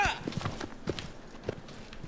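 Horse hooves thud along in a rhythmic gallop while riding through a canyon in Shadow of the Colossus, fairly faint beats repeating under a man's speech.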